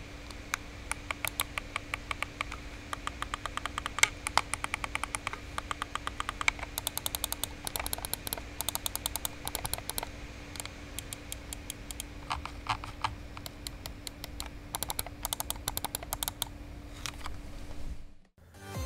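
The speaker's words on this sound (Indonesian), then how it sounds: "Berikut adalah sound test untuk buttons-nya ya." A Fantech XD3 V2 gaming mouse has its buttons clicked over and over in quick, sharp, evenly spaced clicks at close range, with a faint steady hum underneath and no talking.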